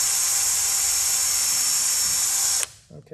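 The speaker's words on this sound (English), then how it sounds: "I'm going to be using a cordless electric drill to drill my holes" Cordless electric drill boring a small pilot hole in a motorcycle spoiler cover, giving a steady high-pitched whine for over two seconds before stopping abruptly, followed by faint handling noises.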